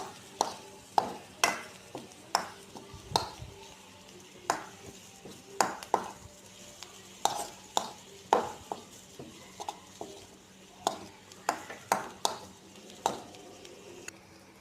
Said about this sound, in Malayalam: മീറ്റ് മസാലയും കൂടി ഇട്ട് കൊടുത്തിട്ട് നമ്മൾ നന്നായിട്ട് ഇളക്കുക.